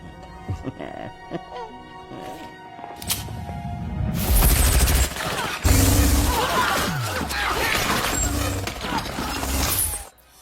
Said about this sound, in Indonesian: Kemudian Duncan mengeluarkan senjata canggih di tangannya lalu menghabisi mereka termasuk Vivian.